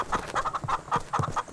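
Rapid clucking of a chicken in the multiplayer farm shooter Shotgun Farmers, a run of short, bright repeated calls in an irregular rhythm, fairly close and clear with no talk over it.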